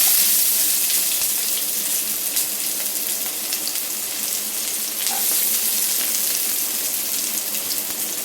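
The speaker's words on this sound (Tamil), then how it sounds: "நம்ம இப்போ இதில் கட் பண்ணி வச்சுருக்கிற வெங்காயத்தை போட்டுக்கலாம்." Chopped onions frying in hot oil for Idli Manchurian, an intense, dense hiss and crackle sustained throughout, loud and close with no talking.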